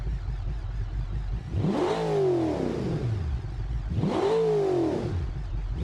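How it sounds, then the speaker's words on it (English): A truck engine in a racing game career mode, detuned from 6,500 horsepower, revs twice in long rising-then-falling sweeps, loud and close, with a steady idle rumble between the pulls and no voices. "Listen to that truck."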